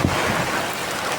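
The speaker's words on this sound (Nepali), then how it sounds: "गोर्खो हिमाडोलमा पानी पर्दैछ।" Steady heavy rain falling outdoors in Gorkha, a dense continuous hiss with low rumbling underneath, loud and close, with no voices.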